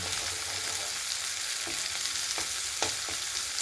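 Tomato, ginger and garlic sizzle in hot oil while being stirred, a steady bright frying hiss broken by a few sharp scraping clicks of the spoon against the pan.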